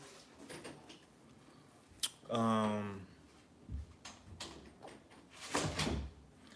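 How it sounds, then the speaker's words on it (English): A door swings and shuts with a sharp knock, followed by a brief scraping creak, heard indoors between bits of nearby talking and other room noises. "Close the door, please."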